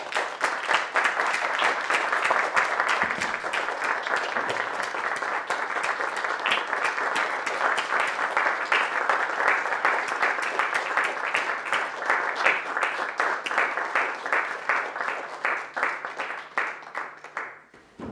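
Seminar audience applauding a human rights prize laureate, a dense, steady wash of many hands clapping that holds for about eighteen seconds before tapering near the end, moderately distant and without talk.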